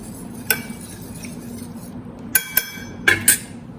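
A few sharp clinks of a metal spoon against a drinking glass while stirring sattu flour into chilled water, scattered taps over a quiet background.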